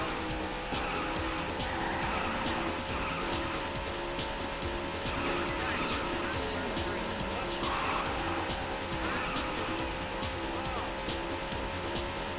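Race car engines roar steadily with recurring tire squeals in the Daytona USA racing video game, a continuous loud drone with music-like tones and occasional voices underneath.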